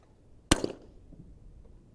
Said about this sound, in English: I'm going to shoot straight away.